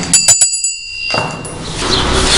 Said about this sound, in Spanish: Siguiendo el sonido de la campana